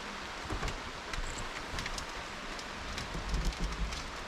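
Steady rain falls outdoors in the Alps, a dense continuous hiss of drops pattering on surfaces close by, with no voices.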